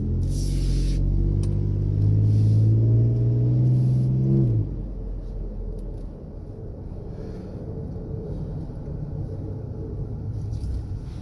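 A 2012 Ford F-150 with a Flowmaster 44 Super muffler revs up through a rising, harmonic exhaust growl for about four seconds, then drops back to a low, steady burbling idle.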